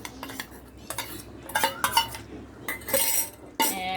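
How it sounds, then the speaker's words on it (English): A spoon stirs paneer cubes into thick kadai paneer gravy in a metal pan, giving irregular close scrapes, clinks and knocks against the pan. "Let's mix it again very well."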